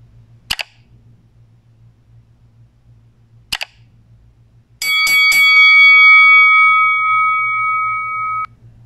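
A boxing bell sound effect is added in the KineMaster editing app. Two sharp clicks come first, then a quick burst of bell strikes that rings out loudly for about three and a half seconds before cutting off.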